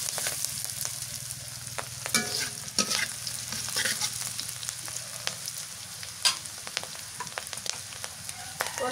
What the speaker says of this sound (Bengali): কাঁচামরিচ, কচুর ফুল ভাজি করবো তো ওই জন্য তেলানি করতেছি